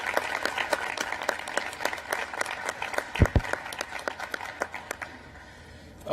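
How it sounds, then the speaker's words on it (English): Audience applause at the Eighth National Space Council meeting: a steady, moderately loud patter of many hands clapping that runs throughout, with one brief low thump midway and a slight fade near the end. "another round of applause for really a tireless public servant"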